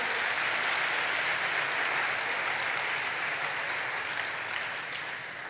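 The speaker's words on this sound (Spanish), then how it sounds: "Denle un aplauso por eso a Dios," A church congregation applauds God during a sermon, sustained broad clapping that holds steady and then tapers slightly at the end.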